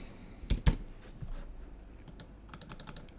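Keys on a computer keyboard are typed close up: two sharp louder presses, then a quick run of light taps, with no speech.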